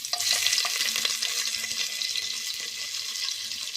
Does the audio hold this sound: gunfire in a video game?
no